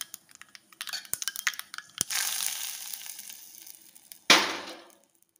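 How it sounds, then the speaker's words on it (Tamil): Mustard seeds tempering in hot oil give sparse, sharp pops and crackles that build into a brief sizzle, then one loud burst of sputtering that fades away. "இப்போ இதுக்கு நம்ம கடுகு தாளிக்க போகிறோம்."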